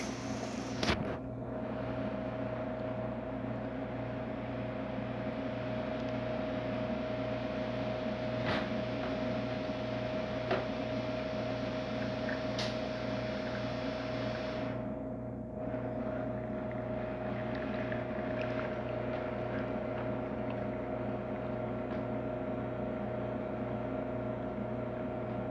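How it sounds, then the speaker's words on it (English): A Quick Mill Vetrano espresso machine pump drones steadily and evenly for a long stretch while pulling a shot after a full tune-up, a constant buzzing hum with a slight shift midway and no talking. "let's go ahead and pull a shot"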